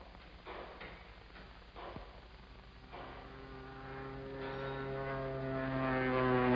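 A small propeller plane passes low overhead, its droning engine note building steadily from faint to loud as it approaches, with no voices over it.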